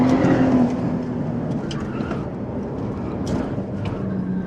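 A sports car engine revs and pulls hard, a continuous loud motor drone with rising pitch, heard up close without talking.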